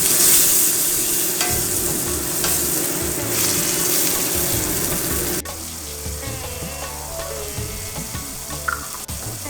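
Ginger paste and garlic paste with salt fry loudly in a hot pan, a dense sizzle with scraping stirs. Partway through it drops to a quieter crackle with scattered clinks. No one speaks.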